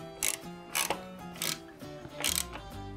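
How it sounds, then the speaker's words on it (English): Bolts on the band of a Big Green Egg ceramic grill being tightened, a close series of four quick metallic ratcheting bursts about half a second apart, with a faint mechanical hum underneath. "we're gonna start with the inside bolt here first and tighten this one all the way down"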